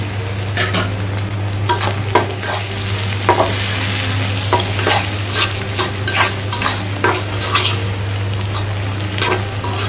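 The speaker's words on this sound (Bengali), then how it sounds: "পেঁয়াজগুলো আমি তেলে ভেজে নিচ্ছি।" Onions frying in oil with bay leaves and garam masala, a constant close sizzle punctuated by repeated sharp scrapes and knocks of stirring over a low steady hum.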